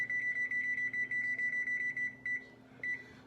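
An electronic kitchen timer on an oven being set while crayons are melted: rapid bursts of bright, high beeps repeat in a fast regular pattern, then slow to a couple of separate beeps, over a low steady appliance hum.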